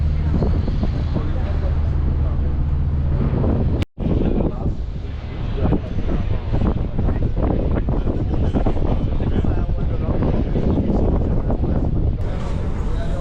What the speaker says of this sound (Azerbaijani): Gəmi hərəkətlənməyə başladı.